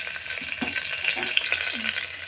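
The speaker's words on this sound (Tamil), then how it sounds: "எண்ணெய் காஞ்சதும் தழை பட்டை இது மட்டும் சேர்த்துக்கிறேன் ஃப்ரெண்ட்ஸ்" Bay leaf and cinnamon sizzling in hot oil, a moderate close crackle with a few light clinks and scrapes of a utensil, no voices present.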